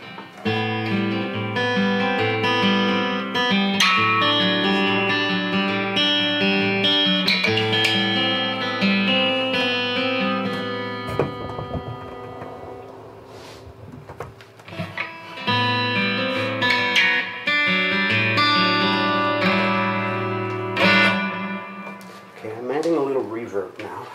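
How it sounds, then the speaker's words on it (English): Ashthorpe D-90 full-sized dreadnought acoustic-electric guitar through an amp with reverb and delay, strummed chords and picked notes ringing with smooth sustain; a brief pause midway before playing resumes. "Just a touch of reverb and delay. It gives you a little bit of, it smooths it out."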